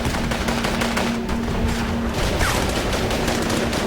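Gunfire exchanged with Al-Qaeda fighters in combat, dense bursts of rapid automatic shots and sharp cracks, loud and continuous throughout, with a faint steady hum underneath.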